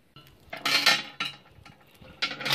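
Metal chains fitted with carabiners clink and rattle close by, with two or three bright metallic bursts separated by short pauses.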